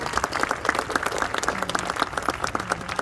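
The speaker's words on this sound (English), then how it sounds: "And we can clap for that." An audience at a 2021 high school graduation claps for essential workers, a lively patter of many hands with distinct nearby claps standing out, continuous for about three seconds without talk.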